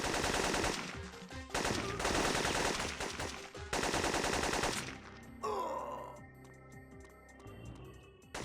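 Rapid bursts of gunfire in Syphon Filter, loud repeated volleys separated by short pauses, then quieter shots and game effects toward the end.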